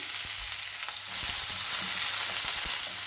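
Onions and garlic hit hot oil with cumin seeds for palak paruppu, producing a loud, dense, steady sizzle up close.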